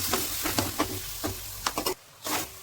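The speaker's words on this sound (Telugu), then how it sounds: "4 పెద్ద సైజ్ టమాటాలు వేస్తున్నాను." Four large tomatoes drop into a hot pan of onions with turmeric and ginger, setting off a steady sizzle with a few soft stirring scrapes and a brief lull before frying resumes.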